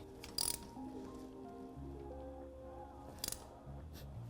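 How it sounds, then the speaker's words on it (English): Engine bolts near the timing cover of a Royal Enfield Himalayan 411 are tightened with a ratchet, giving a few faint, brief clicking bursts over a quiet mechanical background. "Then we'll tighten the bolts."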